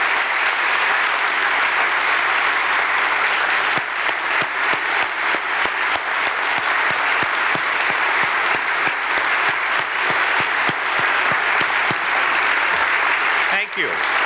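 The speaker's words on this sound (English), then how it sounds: "Let's give them a round of applause for walking across the entire UP." Sustained audience applause fills a large hall at a state of the State address for people who walked across the entire Upper Peninsula, dense and steady throughout with a brief dip near the end.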